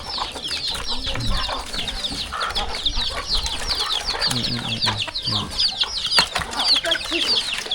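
Chickens and ducks in a rural Thai village yard, with steady overlapping clucks and chirpy calls close by, a few low bursts of voices now and then underneath.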